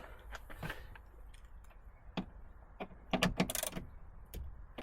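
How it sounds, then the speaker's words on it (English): A ratchet loosens an 8mm bolt on the rear light of a Volvo XC70, quiet clicking and metallic taps scattered unevenly, with a faster burst of clicks near the end. "you will see an 8mm bolt, so we're going to use a ratchet to take that off"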